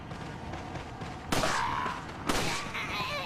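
Two sharp, loud gunshots about a second apart in Resident Evil 4, fired at an enemy, each one cracking out above a steady background of game noise.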